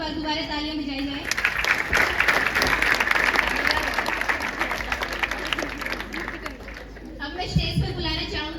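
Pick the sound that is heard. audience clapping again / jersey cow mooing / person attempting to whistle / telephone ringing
audience clapping again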